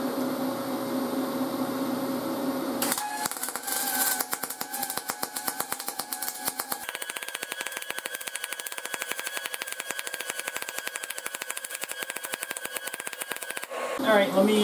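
Aluminum MIG welding with a spool gun, a bead run in a steady pass: a dense, continuous crackling buzz with fine rapid spits that starts abruptly and holds at an even level for about eleven seconds before cutting off.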